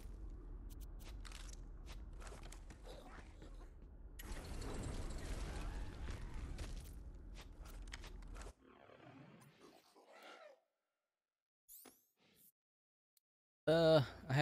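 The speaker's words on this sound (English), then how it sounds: "Let me just loot these chests." Loot chests being opened in the video game Borderlands 3, a dense run of mechanical clanks and rattles, then a quieter stretch with a few brief clicks before a final loud burst.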